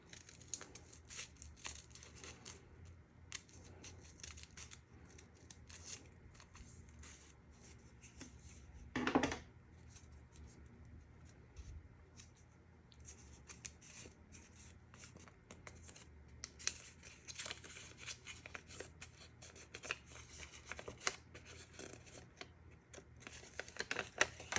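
Scissors snipping through folded paper while cutting a paper snowflake pattern, with soft crinkling and rustling of the paper and one brief sharper crunch, close up and quiet.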